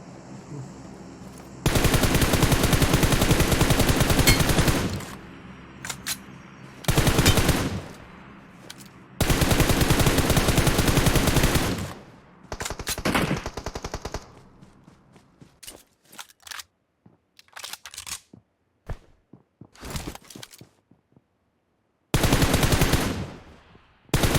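Gunfire in the mobile shooter game PUBG Mobile: loud, long automatic bursts of machine-gun fire alternating with pauses, then scattered single shots and shorter volleys.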